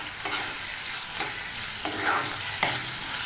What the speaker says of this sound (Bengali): এবার চিংড়ি মাছটা ভাজা হয়ে গেছে।